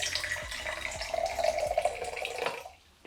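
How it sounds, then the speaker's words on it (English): Warm water pours steadily into a jar with a bright, splashing gurgle for a few seconds, then stops, leaving near silence. "And I'm just going to pour some more warm water into that jar."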